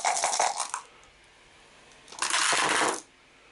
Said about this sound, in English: It's got 6 dice.